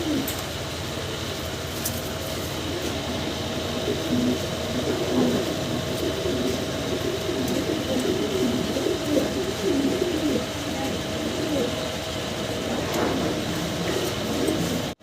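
A running pair of Black Nun fancy pigeons, a male and a female, cooing in repeated soft, throaty rolls over a steady low background hum.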